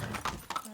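Horse hooves clip-clopping in the Far Cry 6 video game, a short burst of a few quick hoof strikes under game noise and faint voices.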